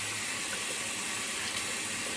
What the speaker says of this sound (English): let me show you what it looks like when you add water to it